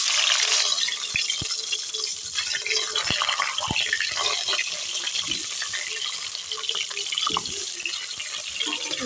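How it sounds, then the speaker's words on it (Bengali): Boiled eggs fry one at a time in hot oil in a pan for egg biryani, giving a steady, loud, close sizzle with scattered pops and crackles throughout, with no talking. "এখন এক এক করে ডিমটাকে ভাজতে দেবো।"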